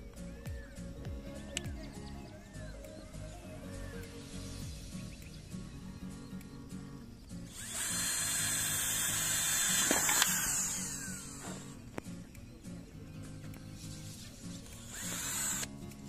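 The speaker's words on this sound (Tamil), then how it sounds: "ஃபர்ஸ்ட் இந்த மோடியில ஒரு ட்ரில் போட்டுக்கிறோம்." Power drill boring a hole in a plastic lid for a small home biogas setup; a whining burst of drilling runs for a few seconds midway, close and fairly loud, with quieter background sounds before and after.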